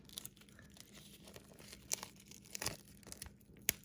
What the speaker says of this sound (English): I'm sure you guys don't want to watch me remove all the protective plastic